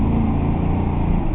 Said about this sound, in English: it's got a real nice throaty sound, especially when you're on the outside, and especially when you give it gas